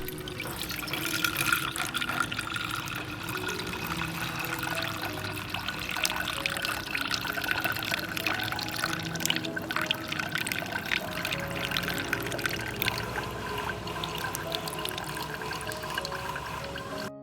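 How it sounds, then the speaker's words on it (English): Cinnamon water pours through a filter press, a continuous trickling, splashing flow that runs steadily and close by for the whole stretch with no talk. "After 30 minutes, let's pour through the filtering press."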